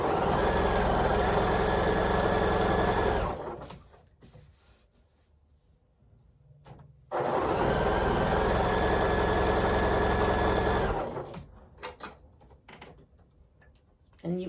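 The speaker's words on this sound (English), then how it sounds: "I'm going to come in here and sew 1/4 inch away from both sides again." A sewing machine stitches quarter-inch seams on precut quilt squares. It runs in two steady, loud bursts of fast whirring hum, with a quiet pause and faint handling noises between them.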